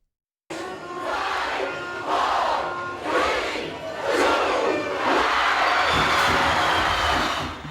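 Huge crowd of about 20,000 people at a New Year's Eve street party in Suva, Fiji, roaring and cheering in waves, a loud continuous wash of voices close and far.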